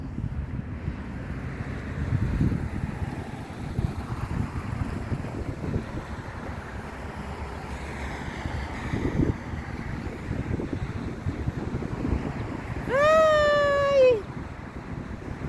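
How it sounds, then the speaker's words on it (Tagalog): Gusty wind buffets the microphone with low rumbling blasts, close and loud, with a brief high whistle-like tone near the end. "Mahangin po."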